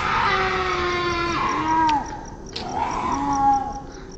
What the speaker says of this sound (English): A very similar sounding shriek to the so-called cougar.